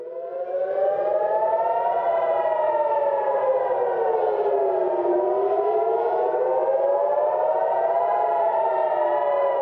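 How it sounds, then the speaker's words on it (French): Air raid warning sirens wail steadily in Haifa, Israel, a loud rising and falling civil-defense tone sustained for about ten seconds without voices. "ce qui a déclenché des sirènes d'alerte aérienne plus au nord"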